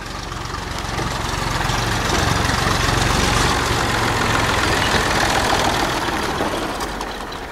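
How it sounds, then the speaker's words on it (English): A steady, loud tractor engine chugs nearby with a rough low knocking throb, holding constant throughout. "If you can hear a tractor, that's my dad."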